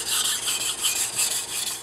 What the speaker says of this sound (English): You can hear the blade running across the stone.